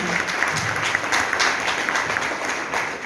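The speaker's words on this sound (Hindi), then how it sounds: "एक बार सर जी के लिए जोरदार ताली होना चाहिए" A crowd at a Vestige business gathering breaks into loud, sustained applause for an honoured guest, a continuous dense clatter of many hands clapping at an even level throughout.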